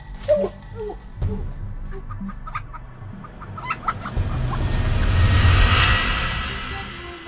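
A chicken clucks in a Nigerian Nollywood drama scene, with a few sharp clucks early on that give way to a swelling, rough rumble of background noise, and no talking.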